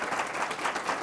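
Audience applause for a presenter at a genealogy day talk, a steady dense patter of many hands clapping at moderate volume, somewhat distant and without voices over it.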